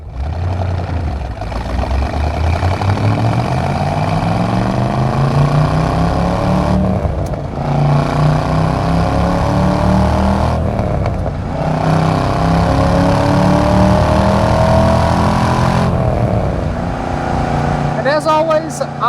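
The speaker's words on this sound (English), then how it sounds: "Got an opportunity here to get in the throttle one more time." A 1969 Chevrolet Corvette L46 with a 350 V8 and four-speed manual accelerates hard, its engine note climbing through several gears with brief dips at each shift. The sound is loud and close, heard from inside the car.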